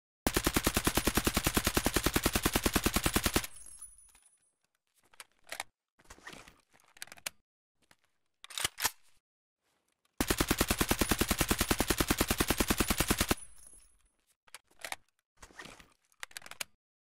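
Automatic fire from an AKMN rifle in a video game rips out in two long, loud, rapid bursts, each followed by quieter clicks and handling sounds before the next volley.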